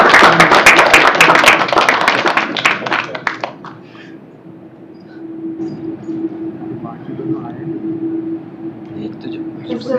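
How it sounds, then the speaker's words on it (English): An audience at an international conference on design-led fintech innovation gives a round of applause, with dense clapping for about three seconds that fades out as a speaker's voice continues over a low hum. "a round of applause for his presence"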